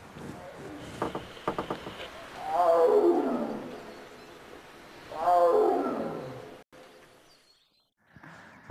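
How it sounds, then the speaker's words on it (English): A tiger roars twice in long, rumbling, descending calls, loud and fairly close, each lasting over a second, with a few sharp knocks before and quiet outdoor background between. "that roar was incredible"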